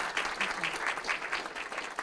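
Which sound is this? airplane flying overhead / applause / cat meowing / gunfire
applause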